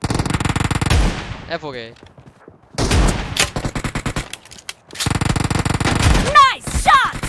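Gunfire in a multiplayer team deathmatch shooter game set in a warehouse, where a player uses a shotgun. Bursts of rapid shots come in clustered volleys separated by short pauses, close and loud, and someone speaks briefly over them.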